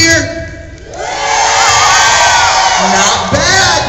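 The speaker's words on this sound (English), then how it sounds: "Can I get a big blue team cheer?" A school assembly crowd of children on the blue team cheering, a loud, swelling roar of shouts and whoops that builds quickly and holds, with an adult voice briefly audible at the start.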